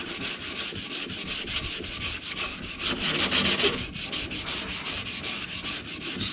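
Flat sanding plane with 120 grit paper rubbing down filler on rusty car bodywork, a steady continuous rasping scrub with a rhythmic back-and-forth texture, close and fairly loud, no talking.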